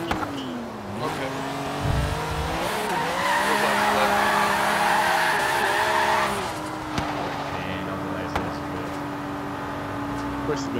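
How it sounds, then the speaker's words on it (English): A BMW M3 E36 widebody in Forza Horizon 3 at a car meet does a burnout, the engine holding high revs with sustained tire squeal before settling, while players talk over it. "Doing a burnout."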